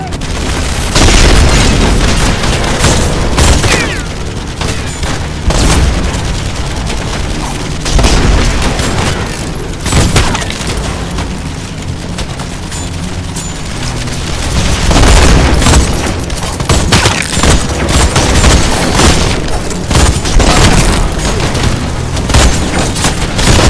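Planted explosives detonate in The Expendables 2 video game at a harbor side, a loud sustained barrage of booms and blasts with gunfire-like bursts filling the whole stretch, with some voice beneath.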